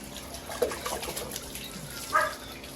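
Running tap water splashes steadily while something is washed, with occasional clinks and a faint dog bark in the background.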